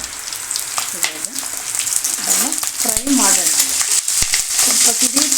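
Green chillies sizzle and crackle in hot oil in a pan, a loud steady fry with sharp pops, while a person talks over the cooking.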